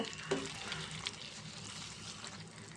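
Dried snails coated in masala being stirred in a pan for a tomato curry, giving a soft, steady sizzle with faint scraping and a couple of brief knocks, close and fairly quiet.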